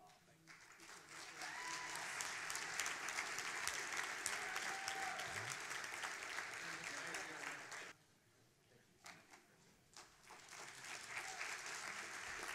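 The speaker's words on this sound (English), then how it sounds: "Let's give this crew one more round of applause." Audience applause at a neighborhood awards ceremony, a steady, moderately loud round of clapping that drops off briefly near the end before picking up again.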